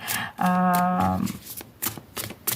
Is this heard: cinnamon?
no